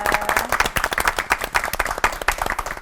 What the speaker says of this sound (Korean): 세 분의 목사님 감사의 큰 박수 보내드리고 싶네요